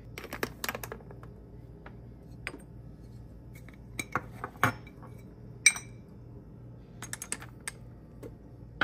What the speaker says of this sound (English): I'm gonna add some cinnamon and stir it up